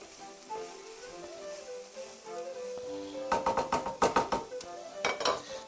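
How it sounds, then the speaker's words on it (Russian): Quiet tonal sounds at first, then a cluster of sharp, irregular crackles and pops as soy beans sizzle and jump in a hot pan for a Chinese stir-fry. "И теперь это все потихонечку пускай жарится."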